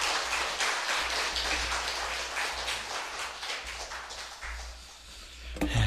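A church congregation at its anniversary Sunday service claps to welcome the pastor to the pulpit: a dense, steady wash of many hands that holds throughout, with no talking over it.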